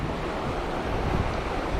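The Yuba River flows in a continuous broadband rush of water, loud and steady, mixed with some wind noise and free of speech.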